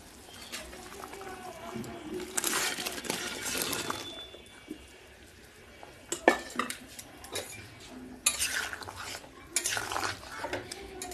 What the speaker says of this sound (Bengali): এখন আমি ডালের বড়াগুলো দিয়ে দিব।